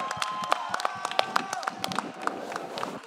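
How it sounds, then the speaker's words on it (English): A small crowd claps for a performer, sharp irregular hand claps scattered through the moment with light murmuring and a voice underneath. "I have to stand up and clap for you."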